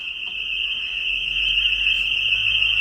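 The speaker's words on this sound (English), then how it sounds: "the house alarm is going off for the actual Milntown house" A house alarm going off in an empty historic house on an estate, a loud continuous high-pitched electronic tone that stays steady throughout, heard from nearby with a low hum underneath.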